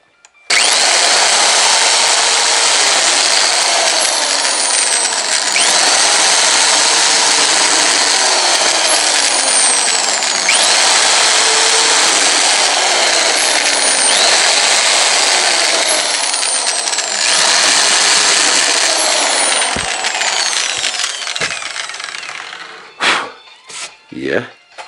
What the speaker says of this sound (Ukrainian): Сверлимо отвори.